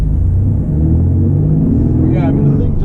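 A V6 Pontiac Firebird track car engine held at full throttle in second gear, a steady loud droning rumble throughout with the pitch climbing slightly near the end.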